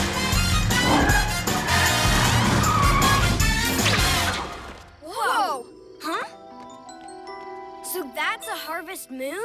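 Cartoon cat car from PJ Masks roaring off amid a loud musical burst, then a series of sharp squealing tire skids with jingling chimes, punctuated by brief pauses.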